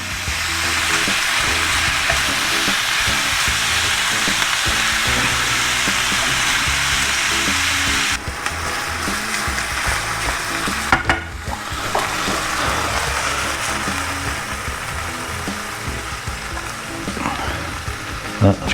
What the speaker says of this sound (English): let's have a start then by cooking up the mincemeat